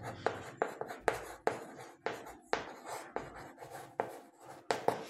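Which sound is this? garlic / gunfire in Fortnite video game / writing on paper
writing on paper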